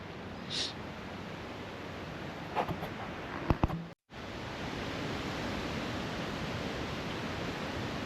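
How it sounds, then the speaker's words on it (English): Steady, broadband rushing of strong wind through trees beside the Upper Mad River, constant and enveloping, with a few faint knocks midway and a brief dropout before the roar resumes. "you can hear it cutting through those branches"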